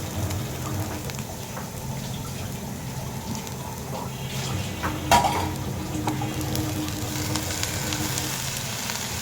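Jute leaves dropped into a hot pan hiss and sizzle steadily, with stirring and scraping of a utensil against metal and a brief louder clatter midway.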